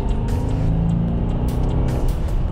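A base-model 2019 Subaru Impreza hatchback with a 2-liter, 152-horsepower engine and 5-speed manual drives along, its steady engine drone and road rumble holding even and close throughout, with no talk.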